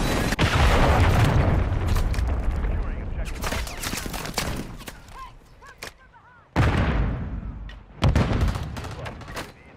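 A cruise missile strike in Call of Duty: Modern Warfare 3 multiplayer, loud booming explosions with rolling gunfire and a sudden second blast, dense and close throughout.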